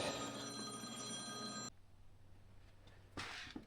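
A telephone rings loudly in a repair shop during work on a Toro Dingo compact utility loader, a steady electronic bell tone lasting under two seconds before cutting off abruptly, leaving quiet room noise and a brief clatter.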